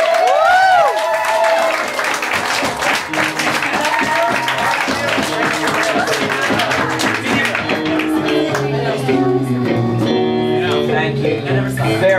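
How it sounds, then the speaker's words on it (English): An audience applauds and cheers for a comedy performer at a live show in San Francisco, a dense continuous wash of clapping heard over music and a voice that carries on throughout. "big round of applause for the RobK experience"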